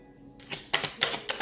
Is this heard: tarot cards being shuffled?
yes